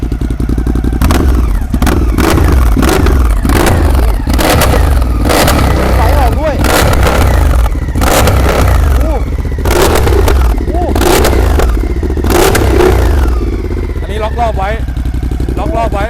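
Ducati motorcycle engine, a Panigale 959 or Multistrada 1200 S, revving loudly and continuously up close, with repeated throttle blips and rising whines, while people talk in the background.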